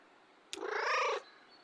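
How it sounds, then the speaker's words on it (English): A single drawn-out cat meow from the video game Kentucky Route Zero, rising and holding for about half a second, close and clear against a quiet background. "Fanciful meow."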